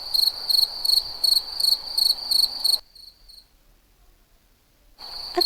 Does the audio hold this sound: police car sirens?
no